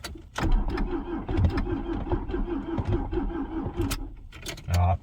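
A Ford Transit Mk7 van engine cranks over and over on a weak battery in a rapid, labored rhythm for several seconds, struggling without catching, then a brief pause and a final rumble.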